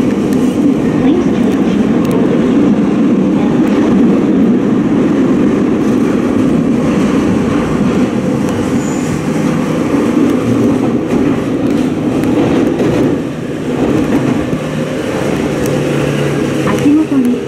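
Interior running sound of an unrenovated E231-800 series commuter train, a steady loud low rumble and rail hum throughout with slight swells, continuous and close.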